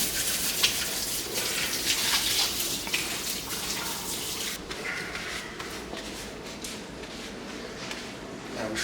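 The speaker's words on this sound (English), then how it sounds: "wash my hands." Hands are washed under a running kitchen tap, a steady close rush of water with splashing that softens partway through, no talk.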